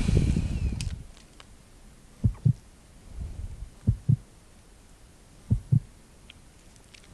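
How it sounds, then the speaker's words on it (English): Heartbeat sound effect from a Resident Evil video game: slow, muffled double thumps repeating three times at an even pace over a low, dark ambient hum. "That noise of the heartbeat is so thrilling."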